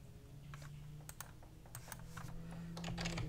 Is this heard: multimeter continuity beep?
no